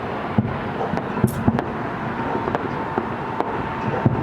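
New Year's Eve fireworks exploding outdoors, a rapid series of sharp cracks and bangs at irregular intervals over a constant noisy background.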